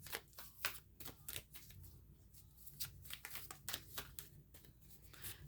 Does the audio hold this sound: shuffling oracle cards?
yes